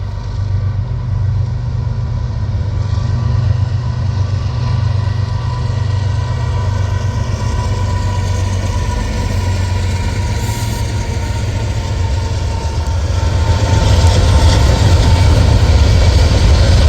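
A train led by a restored Amtrak F40 diesel locomotive rumbles steadily past close by, a heavy low engine drone with wheel noise that grows slightly louder toward the end; no voices.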